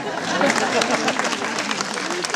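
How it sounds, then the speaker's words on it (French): Audience applause during a speech, a dense steady wash of many hands clapping at once, fairly loud and continuous throughout, with some crowd murmur mixed in. "C'est bien d'applaudir quand je change de feuille, s'il vous plaît"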